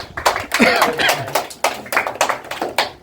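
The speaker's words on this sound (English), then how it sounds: "Clapping करें शाबाश इसके लिए" Classroom clapping for a student at a spoken English academy, a handful of hands clapping in uneven bursts nearby, with a voice and a little laughter mixed in.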